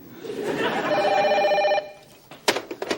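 A telephone rings in a steady electronic trill for over a second, then stops as the receiver is picked up with a few clattering knocks, near and fairly loud.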